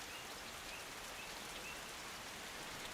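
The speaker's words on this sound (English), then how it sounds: "Oh, it's raining." Steady rain falls in the Norland video game, a dense, even hiss of drops with no pauses and no other sounds.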